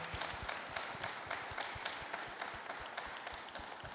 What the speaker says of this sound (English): Can we give our panelists a warm, big round of applause?